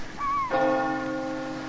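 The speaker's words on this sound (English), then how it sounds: "Every time I hear them church bells" A single church bell strikes close by and rings out with a rich, sustained hum that slowly fades.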